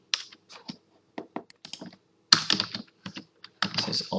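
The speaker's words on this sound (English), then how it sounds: "let's type in client ID" Quick bursts of keystrokes clatter on a computer keyboard while entering a client ID field into an MS Access database table, close and distinct, with short pauses between groups of taps.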